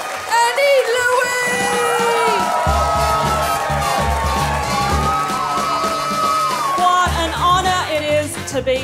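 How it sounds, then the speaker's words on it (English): A comedy show crowd applauds, cheers and whoops loudly as a comedian is welcomed to the stage, with music playing and a host's voice over the noise. "Please keep that round of applause going."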